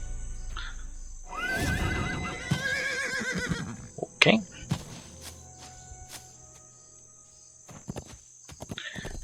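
A horse neighs in the Isle of Dread area of Dungeons and Dragons Online, a loud whinny over crickets and faint steps, followed by sharp game effects and a brief spoken word.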